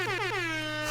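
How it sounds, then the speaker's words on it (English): A blaring air horn sound effect sustains as one loud, continuous blast, its harmonic tone bending slightly downward before cutting off abruptly. "give you some air horns"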